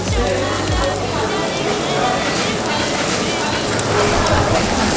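Pork neck grills over a fire at an Ulsan barbecue restaurant: a dense, steady sizzle and crackle that fills the whole stretch without a break.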